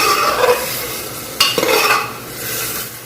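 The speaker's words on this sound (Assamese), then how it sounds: "এইখিনি অকণমান ভাজি লৈছোঁ।" Chicken pieces frying in a pan before going into a pressure cooker for curry, giving a steady close sizzle with stirring scrapes and a sharp clatter of a utensil midway.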